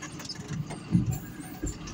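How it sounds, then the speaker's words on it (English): A John Deere 6820 tractor engine runs nearby with a steady low rumble, rising in a couple of brief louder surges. "John Deere 6820 for you."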